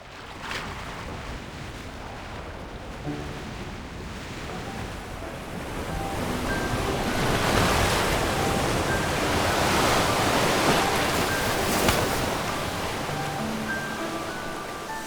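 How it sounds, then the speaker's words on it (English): Ocean waves by an empty stretch of sea in the video game Love and Deepspace, a constant wash of surf that swells louder midway, with a few faint tonal touches over it. "The waves will carry us to that empty stretch of sea once more."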